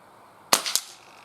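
A single sharp crack from a Kral Empire XS .22 air rifle fired at a 25–28 metre outdoor range, followed a moment later by a fainter second snap.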